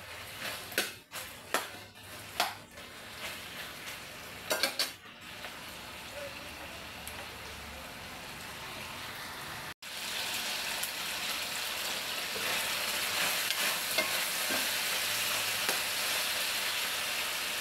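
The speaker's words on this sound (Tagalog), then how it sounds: "Gisa ko pa lang yung baboy." Pork sautés in a pan for pork chop suey, starting with a few sharp clatters of utensils and then settling into a steady, moderately loud sizzle and crackle.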